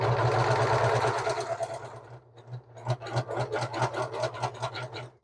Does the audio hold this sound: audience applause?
no